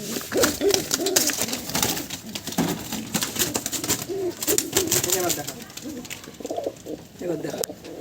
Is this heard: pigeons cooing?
yes